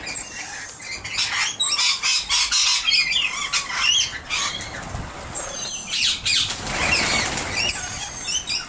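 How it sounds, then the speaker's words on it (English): Flock of lorikeets, corellas, galahs and cockatoos at breakfast seed in Nerang, with continuous loud screeching and squawking, bursts of wing flapping and chattering layered together, close and busy throughout with no talking. "Seeds put out for the corellas, the galahs, the cockatoos,"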